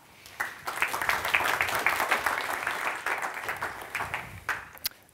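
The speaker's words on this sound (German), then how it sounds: "Applaus" Audience applause welcoming a speaker on stage at the Medien Triennale Südwest summit in Saarbrücken, a steady crowd of clapping hands rising quickly and holding for several seconds with a few sharper claps standing out near the end.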